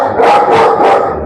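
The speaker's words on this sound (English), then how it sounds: "Barking at the wall." Three sharp, loud German Shepherd barks in quick succession, close by, with no talking.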